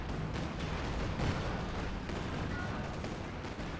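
A rocket barrage in Company of Heroes 2 crackles as a dense, continuous rush of launches and explosions, fairly faint and distant-sounding, with a voice talking underneath.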